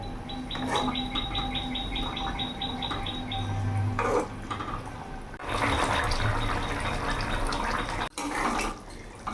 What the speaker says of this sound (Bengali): এবার মাছ দিয়ে আমি 2 মিনিট ফুটিয়ে নেব।